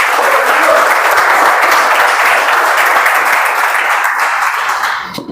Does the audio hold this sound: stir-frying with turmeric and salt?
no